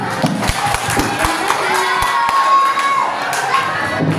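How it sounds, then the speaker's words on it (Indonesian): Junior high school students at SMP Muhammadiyah 1 Genteng clap and cheer in a lively burst, with sharp thumps and excited shouting mixed into the crowd noise, close and loud. "Boleh tepuk tangannya, guys."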